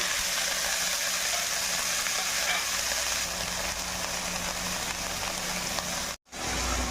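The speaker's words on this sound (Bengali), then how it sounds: "এবার বাঁধাকপিটা আমি তেলের সঙ্গে ছেড়ে দেবো।" Shredded cabbage sizzles steadily in hot oil for a vegetarian Bengali cabbage fry, a continuous close broadband hiss with a faint low hum underneath, cut by a brief dropout near the end.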